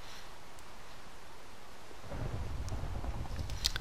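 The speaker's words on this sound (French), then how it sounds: "Je suis tranquillement sous la pluie acide." Acid rain falling in Minecraft, a steady broadband hiss of rainfall that swells in abruptly partway through after a quiet start and continues at moderate loudness to the end.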